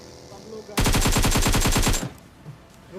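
A burst of rapid automatic gunfire from the battle royale game PUBG rings out for just over a second, loud and close with evenly spaced shots, set against quieter game ambience before and after.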